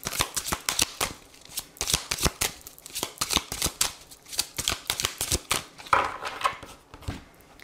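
Tarot cards shuffled during a reading, a loud, close run of crisp riffling and slapping strokes in a fairly steady rhythm that continues throughout with no voices.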